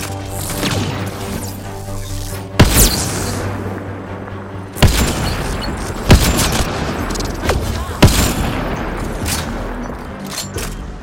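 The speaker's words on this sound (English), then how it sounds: "Oh, someone got a grenade in there." Gunfire and grenade blasts erupt in a firefight in the video game Mass Effect Andromeda, with several sharp booming impacts spaced a couple of seconds apart over a continuous rattle of shots, loud and close.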